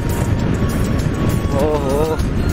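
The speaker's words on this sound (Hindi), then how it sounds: "और ये हमारे सामने जा रही है हायाबुसा" A Suzuki Hayabusa motorcycle rides past during a group bike ride, its engine a steady roar with a brief rising whine as it passes, heard from nearby under constant road and wind noise.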